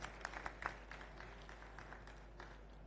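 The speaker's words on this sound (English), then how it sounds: "can we have a round of applause, everybody, for Mr. Abhishek?" Faint, scattered applause from a small audience at a rice industry technical session on global rice markets, with a few sharper claps early on over a steady electrical hum.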